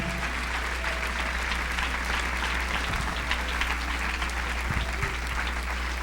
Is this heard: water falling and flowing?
no